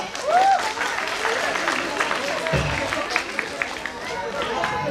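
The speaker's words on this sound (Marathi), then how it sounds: "मग टाळ्या वाजवा जोरदार" Audience at a school annual day function applauds, a dense, sustained wash of clapping with crowd murmur and chatter mixed through it.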